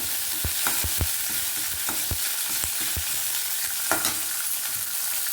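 Curry leaves and green chillies sizzle in hot oil, a continuous bright frying hiss broken by regular soft clinks of a spoon stirring the pan, with no talking.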